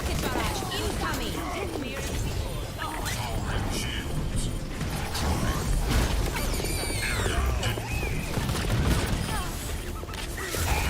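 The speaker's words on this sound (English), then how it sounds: "Rocket barrage incoming." Overwatch rocket barrage ultimate in a dense game fight: a continuous rapid fusillade of launches, mechanical clatter and crashing blasts, loud and busy, with game voices mixed in.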